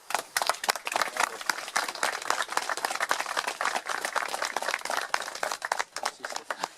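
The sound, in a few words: applause at Armistice Day monument ceremony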